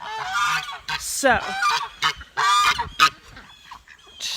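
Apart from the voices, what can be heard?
chickens sounding alarm calls at a snake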